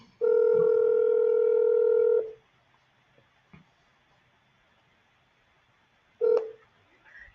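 A telephone ringback tone sounds loudly for about two seconds on a call to a real estate agent, then quiet line noise, then a short second ring burst begins.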